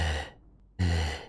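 Heavy breathing during a Mordhau video game session: two loud, close breaths, each a rushing exhale, separated by a brief quiet pause.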